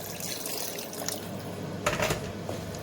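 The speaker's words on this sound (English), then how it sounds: "Get some water in there," Water is poured into a pot of chicken and chickpea curry, a continuous splashing flow with a brief louder gush near the end, heard close up.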